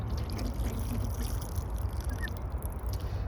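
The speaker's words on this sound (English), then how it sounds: "so we're gonna water them." Water pours and trickles steadily from a watering can or hose onto young kale plants outdoors on a farm, a close, continuous splashing under a low breezy rumble.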